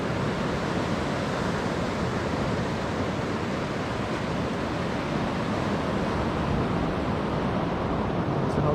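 Waves washing onto a New Zealand beach among half-submerged Moeraki boulders, a steady broadband roar of surf with wind noise on the microphone, continuous and fairly loud with no voices.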